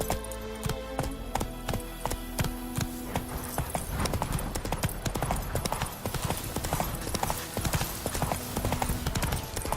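A horse gallops in The Witcher 3 video game, its hooves clip-clopping in a quick, steady rhythm with occasional snorts, while game music and ambient effects play underneath.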